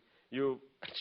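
A single close, voiced sneeze bursts out in an old radio comedy recording, followed quickly by the start of speech.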